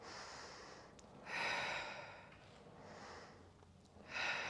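Slow, audible breathing during a Pilates reformer exercise, with long airy inhales and exhales swelling and fading in a steady rhythm, close and moderately loud with no talking.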